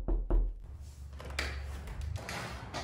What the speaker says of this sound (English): a special visitor knocks on the door